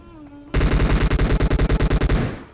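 Automatic gunfire in PUBG: after a brief quiet moment, a loud, rapid burst of about twenty evenly spaced shots rattles out for two seconds, then stops.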